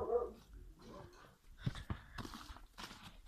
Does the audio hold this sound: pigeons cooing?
no